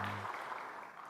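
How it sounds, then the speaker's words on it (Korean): A church congregation applauding during a Sunday worship service, a steady wash of many hands clapping at low volume, with a brief low hum at the start and no voices. "연우를 위해서도 우리가 박수로 한번 축하하겠습니다"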